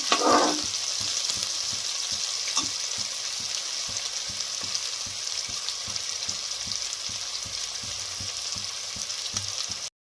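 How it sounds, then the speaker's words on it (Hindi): Onions sizzle steadily in a pan while browning for a Punjabi-style gobi matar bhurji, a continuous close hiss with soft periodic stirring taps throughout and no talking. "हम प्याज पा देंगे प्याज ब्राउन कर लेंगे"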